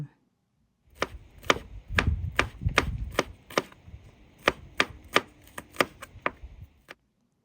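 Knife slicing red shallots and garlic on a cutting board for a Lao chili dip: a close, steady run of about twenty sharp chops in an irregular rhythm, with no talk.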